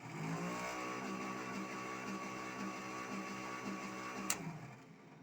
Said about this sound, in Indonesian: Dan suara itu adalah suara kipas teman-teman.